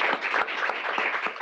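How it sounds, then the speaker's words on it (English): Audience applause after a poetry reading: a brief burst of many hands clapping at close range, dense and steady throughout the short moment with no talking. "I like clapping after poems."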